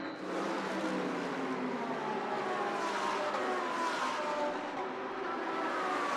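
GT World Challenge race car number 71 entering pit lane at Indianapolis, a steady distant engine roar with a gently shifting pitch amid broad track noise.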